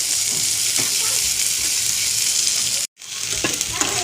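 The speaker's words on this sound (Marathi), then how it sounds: "टोमॅटो आपल्याला पूर्ण मऊ पडेपर्यंत परतून घ्यायचे" Tomatoes sautéing for paneer bhurji hiss and crackle steadily in a pan, close and loud, with soft stirring scrapes throughout and a brief moment of silence near the end before the sizzle resumes.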